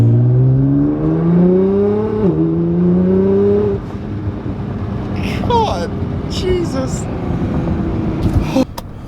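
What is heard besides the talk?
R32 Skyline GTR accelerating at half throttle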